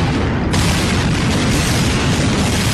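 A blast at the World Trade Center on 9/11 comes as a loud, dense, continuous rumbling roar with no clear gaps, overwhelming and sustained for its whole length.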